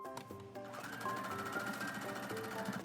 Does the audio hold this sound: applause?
no